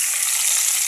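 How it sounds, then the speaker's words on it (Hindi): Hot tadka tempering poured over kadhi sizzles loudly and steadily, a close, continuous hissing fry with no talking. "हो गया तड़का तैयार और हो गया मज़ेदार और जा रहा है ये कड़ी के ऊपर।"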